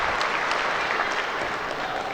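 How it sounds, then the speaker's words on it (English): Steady applause and cheering from a crowd at an ASA women's pro archery shoot-down in Foley, Alabama, after an archer hits a 12 ring, loud and continuous throughout with no talk over it. "We're going to hear a big cheer here."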